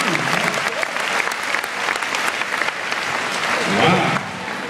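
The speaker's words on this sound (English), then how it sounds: "Give a round of applause." Audience applause breaking out after a timed group activity at a school-style talk, dense steady clapping filling the room for several seconds, with a voice speaking over it near the end.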